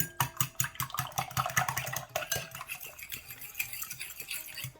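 Eggs beaten with spices and black pepper in a bowl give a fast, steady run of close, bright clinks and taps against the bowl, continuous with no talk.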